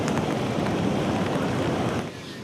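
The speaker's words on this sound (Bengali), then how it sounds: "সকালের সময় সমুদ্র দেখুন কতটা উত্তাল।" Rough, churning sea waves mix with gusting wind at Puri beach on a rainy morning, a loud, continuous roar of surf and wind buffeting that eases slightly near the end.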